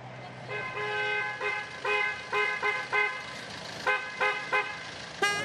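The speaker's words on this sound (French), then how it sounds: "Quand on entend aujourd'hui les camions qui passent, on en a déjà et c'est très bruyant." On a road running between houses, a car horn honks in a series of short and longer toots over the steady rumble of passing traffic, with trucks going by.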